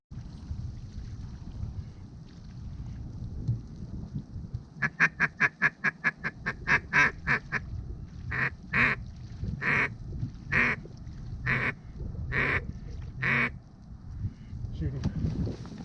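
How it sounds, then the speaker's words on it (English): Geese calling over open water during a windy-day goose hunt, a run of rapid honks followed by a steady series of louder, evenly spaced calls, heard amid wind and hunters' voices. "There's some geese!"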